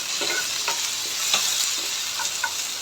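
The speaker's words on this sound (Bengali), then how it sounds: "এটা একটু নেড়ে চেড়ে নিলাম। বাটাটা আস্তে আস্তে গলে যাবে।" Butter melting in a hot pan on a high flame while being stirred, a steady broadband sizzle with a few soft scraping strokes of the spoon, close and moderately loud.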